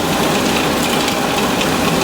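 A blender whirs continuously and loudly while blending pesto made with sunflower or olive oil, a steady dense motor roar filling the whole moment with no talking.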